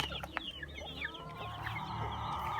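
A broody mother hen clucks softly and repeatedly up close, with faint high peeping chirps from her chick scattered through the short stretch.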